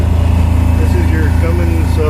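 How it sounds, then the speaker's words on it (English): A Cummins quad diesel generator runs steadily at close range, giving a constant low engine drone with a regular pulsing rhythm and no letup, alongside a faint tonal whine. "Cummins quad diesel generator."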